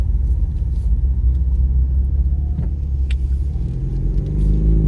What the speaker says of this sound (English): I am in my car this morning.